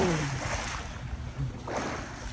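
Someone jumps into a swimming pool, making a single close splash that bursts out near the end after a brief voice at the start.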